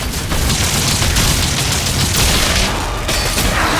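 Dense, continuous combat audio from DOOM: The Dark Ages: rapid gunfire bursts layered with heavy booming explosions, loud and sustained throughout with no pauses.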